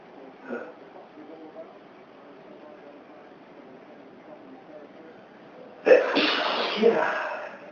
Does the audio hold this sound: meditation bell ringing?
no